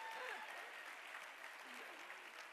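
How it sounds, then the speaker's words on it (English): Audience applause at a gala dinner celebrating Jewish education in a Dallas kosher hotel ballroom, a steady wash of many hands clapping, faint and distant, holding evenly throughout with a murmur of voices beneath. "Please join me in giving them a tremendous round of applause."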